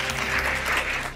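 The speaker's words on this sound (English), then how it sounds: "Can we have a round of applause for all of our spellers?" A school spelling bee audience bursts into a short round of clapping, brief and fairly loud with a low hum beneath.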